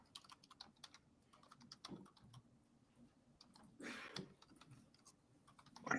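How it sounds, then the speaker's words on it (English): Typing on a computer keyboard, light scattered clicks in uneven bursts, faint in a quiet room, with a couple of louder rustling bumps. "That is not me typing."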